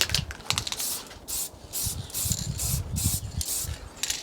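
Simoniz satin black spray paint hisses from an aerosol can onto motorcycle crash bars in repeated short bursts, close and fairly loud, with small rattles and clicks between passes.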